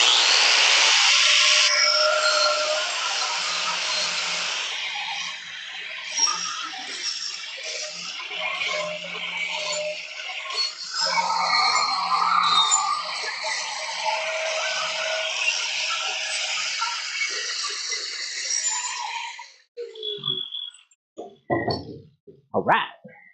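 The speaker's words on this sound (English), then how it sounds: "I'll hit it with the grinder real quick just to make sure it's clean." A grinder works a forged blacksmith knife, a loud, continuous abrasive whir with grinding rasps for most of the stretch before it winds down and stops, followed by a few scattered knocks.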